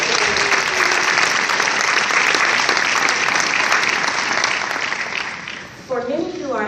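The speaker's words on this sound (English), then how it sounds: "Round of applause." Loud, sustained applause from a large crowd at an ITT Technical Institute graduation ceremony, dense and continuous before fading slightly, then a voice begins speaking near the end.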